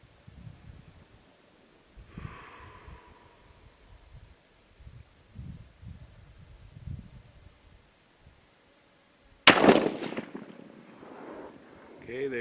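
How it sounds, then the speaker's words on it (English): A Stevens 200 rifle fitted with a Sav 1 trigger and Vortex Viper PST scope fires one sharp, loud shot that rings out and decays. Quiet handling noises and faint movement come before it, and the clip does not show three separate shots. "Three shots."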